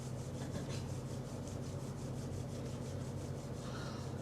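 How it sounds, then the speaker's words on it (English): Palms rubbing together during a relaxation exercise in a yoga practice, a steady dry swishing friction with a regular back-and-forth rhythm, close and fairly quiet, continuing for several seconds with no talk. "Rub your palms."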